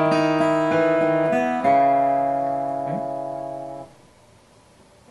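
A banjo picks the opening phrase of We Three Kings as written, a run of bright plucked notes in quick succession, then one held note ringing out and fading to quiet, played solo and close.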